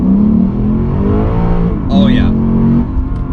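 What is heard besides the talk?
Lexus RC F Track Edition V8 engine accelerating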